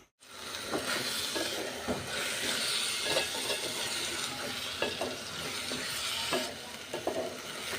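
Biryani cooking in a covered pot gives a continuous sizzle and frying hiss with scattered soft clicks and pops, close and steady, with no voices.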